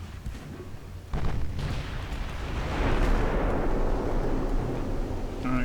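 A battleship blowing apart in a 1910-era naval battle in the warship game Ultimate Admiral Dreadnoughts, heard as a heavy rumbling explosion that swells and rolls on steadily. Smaller booms of gunfire come before it.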